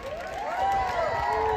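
Crowd screaming and cheering at a Catrina costume contest, a loud sustained wash of many young voices yelling together, rising slightly in pitch and holding strong for the whole stretch.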